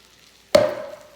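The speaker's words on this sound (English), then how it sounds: "Now you have to add the pasta sauce to the meat" A single sudden scrape and sizzle as pasta sauce is poured and stirred into meat cooking in a pan, sharp at the start and then hissing down over a second.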